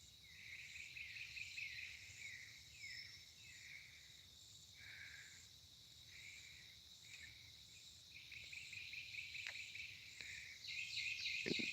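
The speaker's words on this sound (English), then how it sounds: "I can hear a warbler." Short, repeated warbler and thrush song phrases ring out over a steady, high insect trill. The outdoor scene is fairly faint and distant.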